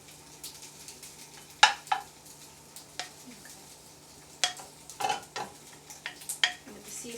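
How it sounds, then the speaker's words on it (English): Shrimp frying in a hot pan, with a soft continuous sizzle under sharp clinks and scrapes of a utensil stirring against the pan, spaced a second or so apart. "get the pan a little more hot. Just gonna put the shrimps in."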